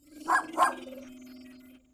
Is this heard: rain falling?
no